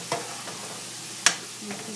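Struffoli dough balls frying in hot oil while a spatula stirs and tosses them, giving a steady soft sizzle with a couple of sharp scraping clicks against the pan, close and fairly quiet.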